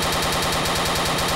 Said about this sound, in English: that T-Rex has bloody guns